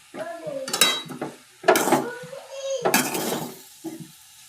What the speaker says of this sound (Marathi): मग आता हे मिश्रण आपण सगळं परतून घेऊ.